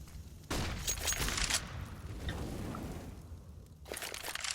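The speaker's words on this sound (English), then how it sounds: "It's going to be an early nade out into drop down" A grenade flies out into drop down during a Counter-Strike match, landing as a sharp crunching burst followed by rumbling, crackling game noise, with another loud burst near the end.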